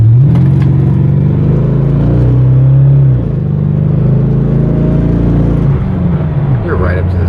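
A C4 Corvette with a targa top and C6 wheels drives and accelerates, its engine giving a loud, close rumble that climbs in pitch through the gears with brief dips at the shifts.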